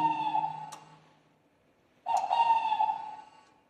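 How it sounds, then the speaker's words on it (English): Two owl calls sound close and clear, each a sustained tonal hoot with a sharp onset, separated by a quiet gap of about a second, recorded indoors in a reputedly haunted building on Devil's Island. "That's an owl."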